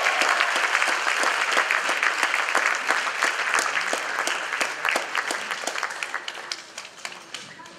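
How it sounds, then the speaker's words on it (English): Dense applause from an audience honoring young volunteers who performed at a community event, steady and loud throughout before tapering slightly near the end. "Can we have a round of applause for the young volunteers,"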